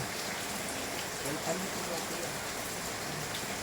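Steady rain pours outside a flooded house during Typhoon Carina, a dense, constant hiss of drops beating on surfaces with no letup, while faint voices murmur in the background.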